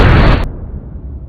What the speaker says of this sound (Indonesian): Setelah berhasil membawa Obruchev dan Heracles, mereka pun langsung meledakkan tempat tersebut.